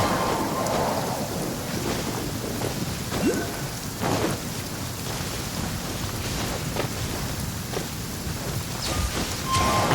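Steady rain pours throughout a thunderstorm in Genshin Impact, with soft thunder rumbles rolling underneath and scattered brief crackles, a dense continuous wash with no voices.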